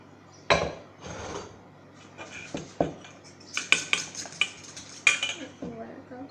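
Utensil stirring and scraping a chocolate dessert mixture in a bowl, with clinks and knocks against the sides in an uneven rhythm, close and fairly clear, no voice.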